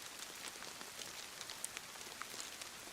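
Steady rain patters on surfaces in the DayZ video game, a dense, even hiss of drops with a few brighter individual plinks, quiet and continuous with no voices.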